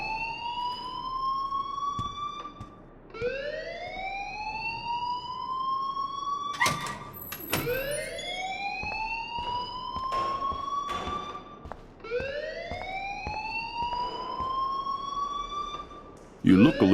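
A fire alarm rings in the video game Life is Strange: loud rising electronic whoops repeating about every four seconds, with sharp clatter and brief noises between cycles.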